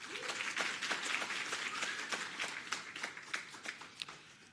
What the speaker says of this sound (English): you deserve a round of applause